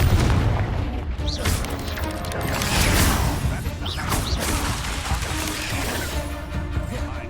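Confringo blasting curse explosions in the Hogwarts Legacy video game, loud booming blasts and crashes in quick succession amid busy combat noise, with a voice shouting spells over them.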